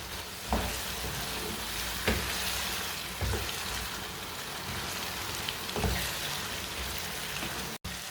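Diced carrots and peas sizzle steadily in a hot pan for a potato, pea and carrot curry, a loud continuous fry broken by a stirring clack roughly every second and a half.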